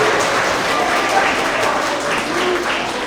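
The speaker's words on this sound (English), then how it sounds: "Let's give them another big round of applause." Loud, dense applause from a crowd, sustained throughout with a few cheers mixed in.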